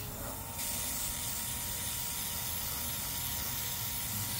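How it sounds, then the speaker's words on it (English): An airbrush sprays a light mist while a curb-rashed Tesla Uberturbine wheel is repaired, giving a close, steady hiss that starts abruptly and holds evenly. "now what I'm gonna do is take my airbrush,"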